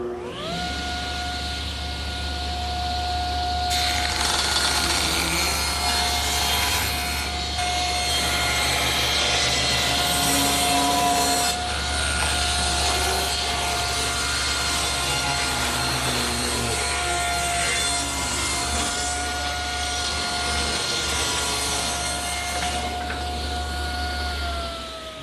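A table saw set at 3.5 rips a thin strip off one edge of a wooden board for a rustic coffee table, a loud steady whining drone with a sustained cutting roar through the middle, then the motor running on alone.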